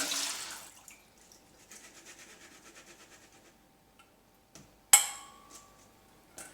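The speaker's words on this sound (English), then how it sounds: "Now I'm going to drain the water." Soaking water drains from cut potatoes: a brief splash and trickle opens, faint clinks and drips follow, then a sharp loud clatter of a utensil near the end, with no talking.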